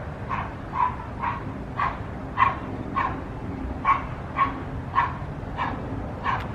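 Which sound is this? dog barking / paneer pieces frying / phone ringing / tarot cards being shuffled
dog barking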